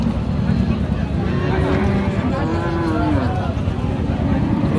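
Young Friesian cows at the Raniganj cattle market in Dinajpur give a drawn-out low moo partway through, set under a thick, loud crowd murmur and market din.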